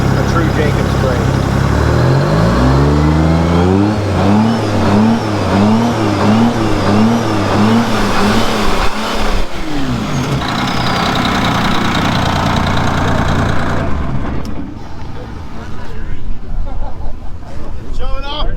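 A diesel truck fitted with a factory Detroit-style Jacobs jake brake, at a mountain diesel event, barks in a loud, rapid pulsing chatter that rises and falls for several seconds before fading into engine rumble and crowd noise.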